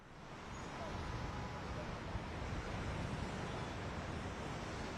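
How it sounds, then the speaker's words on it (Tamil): Strong cyclone wind and crashing sea waves at Marina beach during Cyclone Fenjal, a steady, loud roar of surf and gusting air filling the whole stretch without pause. "அங்க தற்போது பலத்த காற்று வீசக்கூடக்கூடிய நிலையில"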